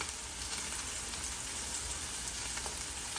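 Sea scallops searing in a hot pan give a steady, dense sizzle and crackle, close and even from start to finish, with no talking.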